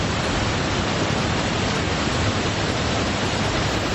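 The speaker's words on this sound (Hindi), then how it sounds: "डैम की उफनती धारा खौफ पैदा कर रही है।" Overflowing water surges from a dam in a dense, steady, loud rushing roar that never lets up, with no voices present.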